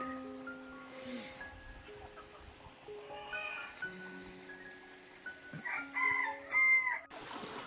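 Poultry farm chickens roaming outdoors in the open, with a rooster crowing and hens clucking and calling at moderate distance, several overlapping calls rising near the end.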